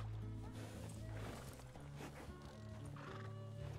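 Horse in the RedM roleplay game whinnying and neighing close by, with hoofbeats clip-clopping steadily underneath, layered over other game ambience throughout.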